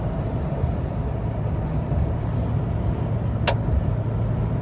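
A 2007-2013 Toyota Tundra pickup speeds back up to about 60 on the road under cruise control, a steady close engine and road rumble holding even throughout with one brief higher whine partway through.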